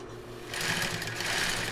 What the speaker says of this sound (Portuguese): E vou costurar o meu lacinho com esse mesmo ponto.